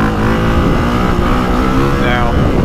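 A 2025 Honda CRF450R motocross bike on dry hard-pack dirt runs loud and close, its engine note steady and droning with slight rises in pitch, and no voices over it.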